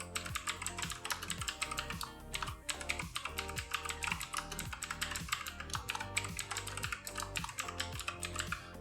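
Rapid, steady keystrokes on a computer keyboard while an Artisan migration command is entered in a Laravel project, a close and continuous clatter of clicks with no speech.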